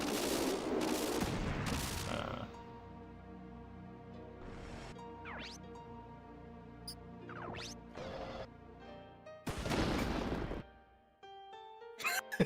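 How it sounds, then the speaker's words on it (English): Artillery cannon firing in the video game Front Mission 3, bursts of loud booming blasts with crackling explosions at the start and again near the ten-second mark, separated by quieter synthetic game tones and whooshes. "It's an artillery cannon."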